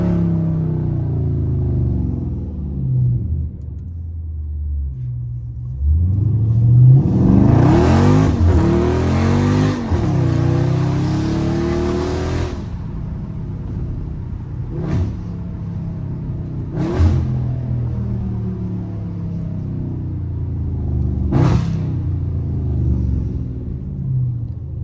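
Dodge Scat Pack V8 revving hard while drifting, a loud roaring burst that climbs and falls for several seconds, then a few sharp short blips over a deep idling rumble.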